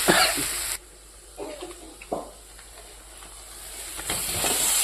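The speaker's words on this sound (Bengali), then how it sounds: "এবার আমি ভেজে রাখা চিকেনগুলো দিয়ে দেবো" Pieces of fried chicken go into a pan of sizzling ground spice paste, with loud frying hiss at the start and end and brief stirring scrapes and clatters in the quieter middle.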